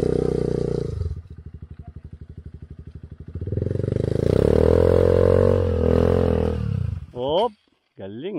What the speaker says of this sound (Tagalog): Naglilimiter yung motor ni Press ah